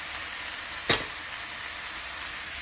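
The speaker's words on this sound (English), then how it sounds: "now I put the chicken in the pan." Chicken sizzles and fries in curry in a pan, a steady soft hiss throughout with one brief clatter of a utensil against the pan.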